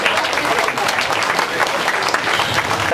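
A crowd at an annual picnic and reunion gathering breaks into loud, dense, sustained applause to welcome a district council guest, with voices mixed into the clapping.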